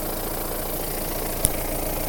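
A Mahindra Roxor engine idling after a cold start in below-freezing weather, a steady low rumble with one brief click partway through.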